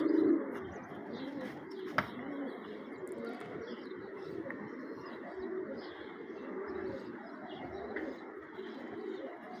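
A dove or pigeon coos outdoors in a quiet spot, with repeated soft low calls that come and go over a faint background and an occasional sharp click.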